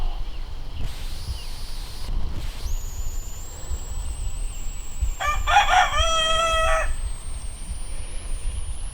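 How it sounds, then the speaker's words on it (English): A rooster crows once loudly in the middle, with chickens audible among outdoor morning garden ambience and a steady background hiss. "All my crazy chickens out this morning."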